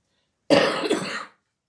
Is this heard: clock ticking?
no